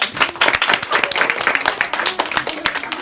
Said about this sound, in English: Everybody give Kate a round of applause.